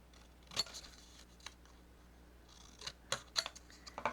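Scissors snipping paper to cut out printed words for a Christmas folio craft, a handful of crisp, close snips scattered irregularly, with a couple of quick clustered cuts near the end against a quiet room.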